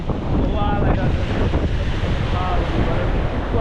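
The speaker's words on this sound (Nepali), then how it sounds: "यस्तो छ समुद्रको हाल" Continuous roar of surf washing onto a shore, with heavy wind buffeting the microphone throughout and faint voices in the background.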